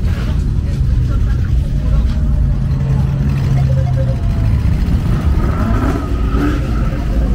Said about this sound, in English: You're going to hear some car spinning.